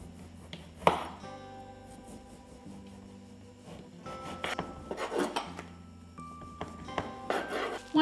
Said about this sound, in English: using my bread knife, I'm going to cut it down to size